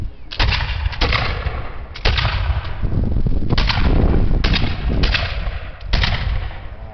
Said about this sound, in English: When you hear the gun next to you go off, fire yours.